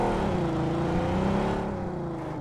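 A car engine in a multiplayer video game drones steadily with a rising and falling pitch, close and continuous, with no talk over it.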